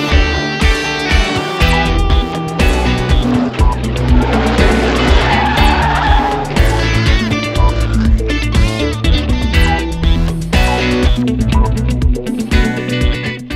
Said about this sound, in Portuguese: O toque causou o acidente mais forte do fim de semana e acabou com a prova dos dois